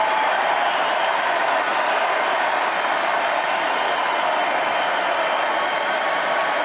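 Big crowd at an inauguration event roaring with steady cheering and applause, a dense, unbroken wash of clapping and voices heard from a distance at an even level throughout.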